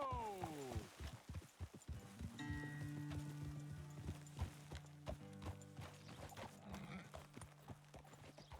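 Horses' hooves clip-clop on the ground in Red Dead Redemption 2, a steady trotting rhythm close by that slows and settles, joined by gear-like mechanical clicks and a sustained tonal hum from the game.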